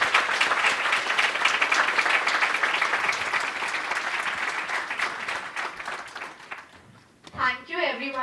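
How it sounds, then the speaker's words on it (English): Loud, dense audience applause for conference panelists at a CHRO conclave, sustained for about seven seconds before fading out, followed by a voice speaking alone. "Give a clap to everyone."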